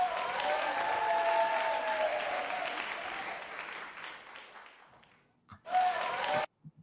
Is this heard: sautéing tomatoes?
no